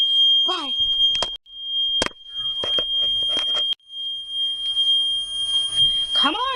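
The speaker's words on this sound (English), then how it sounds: "Jesus, save me from these fire alarms." A building's fire alarm shrills continuously in a high piercing tone, cutting out briefly twice, while someone speaks and exclaims over it up close.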